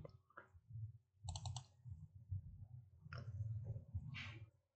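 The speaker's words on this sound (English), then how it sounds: "if I try to type on my keyboard does not work" Computer keyboard keys typed in short bursts on a Windows PC, with crisp clicks and taps coming close and fairly quiet, spaced unevenly across a few seconds and with no voice over them.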